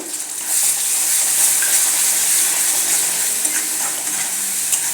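Ground coconut, coriander and garlic paste sautéing into a red potato curry in a pan, giving a steady, close sizzle with a faint scrape of stirring that runs throughout, no voices.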